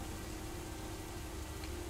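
Steady rain pouring down in a stormy countryside video game, a dense, even hiss with no drops standing out, fairly faint and unbroken, with no voices.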